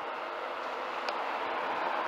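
Train 91110 bound for Leeds pulls into Peterborough station, a steady, broad rumble and rush of wheels and motor that holds at an even, fairly loud level throughout.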